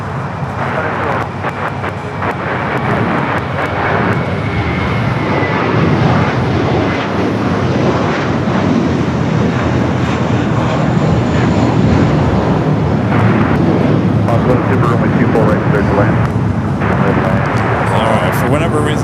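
A Delta Boeing 767 jet at LAX gives a loud, sustained engine roar that holds steady throughout, with voices talking underneath.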